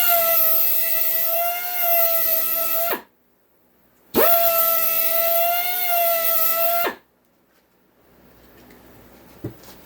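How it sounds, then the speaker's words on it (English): A belt sander grinds down the edge of a metal bar in two loud, sustained high whining passes with silence between them, close up and with no speech. "Just break that edge off like that with my belt sander."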